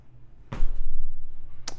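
Two separate mouse clicks in Excel, about a second apart, the first sharper and fuller, over a faint low hum.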